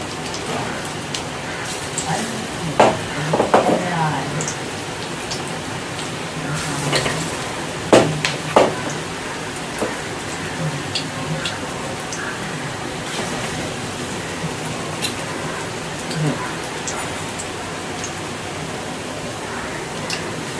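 Jackfruit seed pakoras frying slowly in oil over medium heat, a steady rain-like sizzle with occasional clinks of a utensil against the pan, holding at an even, fairly loud level throughout.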